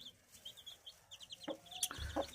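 Roosters and chicks being shown for sale, with soft close clucks and brief chirps in quick short bursts over a quiet background.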